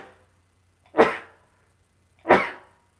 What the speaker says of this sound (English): I apologize for the sneezing.